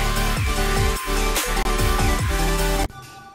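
Future bass drop built from Ableton stock instruments: loud, dense chordal synths with pitch-bending, stuttering chord stabs and heavy bass pulses over about three seconds, cutting abruptly to quieter tail near the end.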